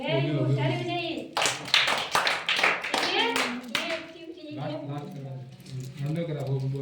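Children in a classroom clap together in a loud, close burst of quick, overlapping hand claps for about two seconds, while an adult speaks before and after.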